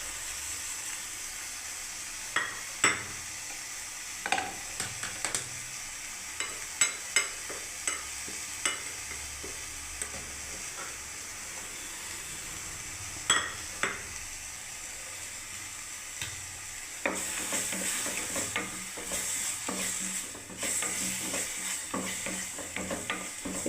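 Ground spices with salt, turmeric and cumin stir-fried in a pan for a vegetable curry, a soft steady sizzle broken by scattered spoon scrapes and clinks, growing louder and busier toward the end.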